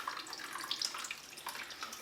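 Liquid from chicken feet bone broth wrung out of a cheesecloth, a steady close trickle and splatter of water with small drips, continuous for about two seconds with no talking.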